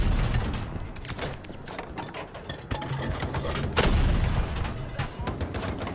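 A light machine gun firing in Battlefield 2042, loud close bursts of rapid automatic fire with brief pauses between them, mixed with distant battlefield gunfire and someone talking over it.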